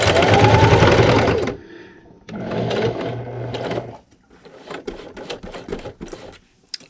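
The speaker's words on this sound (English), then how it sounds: "I'm going to sew all the way around until I get to my final pin and backstitch" A sewing machine stitching fabric for a pint-size ice cream cozy, running in fast rattling bursts that stop and restart, with brief pauses between stretches of stitching.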